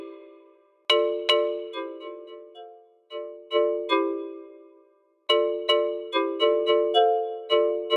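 A xylophone preset from the Plugsound Pro software instrument plays with its amplitude envelope at default settings: struck bar notes ring out with bright attacks and steady decays, first two hits, then a short melodic run, and after a pause a quicker series of notes, close and clear with no voices.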